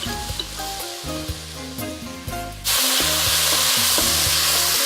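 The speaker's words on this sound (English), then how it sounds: "And we're gonna stir this and let this cook for a couple minutes." Potatoes with bacon sizzle in a pot for clam chowder, with a few stirring scrapes. A louder, steady hiss of frying takes over midway. Music plays underneath.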